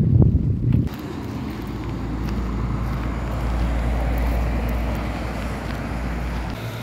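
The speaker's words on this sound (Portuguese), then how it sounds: "não sei se tá uma zoadinha do vento, tá ventando." Wind blowing at the Mazinho outdoor market before rain, a continuous low rumbling buffet on the microphone that holds steady throughout, with a brief louder bump at the start.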